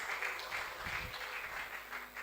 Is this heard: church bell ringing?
no